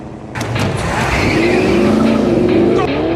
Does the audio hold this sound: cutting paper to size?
no